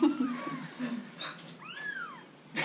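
A kitten on a farm stay in Lemvig, Denmark mews several times in thin, rising and falling cries, close and clear, with quiet rustling between calls and no speech.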